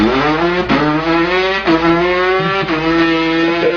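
A boy imitates a two-stroke dirt bike or moped engine with his voice: a loud, buzzy, nasal drone in rhythmic revving pulses, breaking about once a second as each simulated shift or rev restarts, close and alone.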